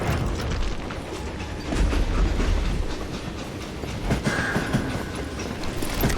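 A train rolls along in a Wild West video game, Call of Juarez Gunslinger, with a continuous rumbling clatter of wheels on track, steady and fairly close, with occasional faint metallic squeals.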